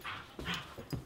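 A dog at home whimpering in soft, faint little whines and snuffles, a few short broken sounds close by in a quiet room.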